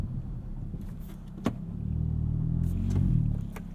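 A 2022 Hyundai Elantra N with DCT holding revs on launch control: a sharp click, then a steady, rising engine drone that builds and holds near, with no talking.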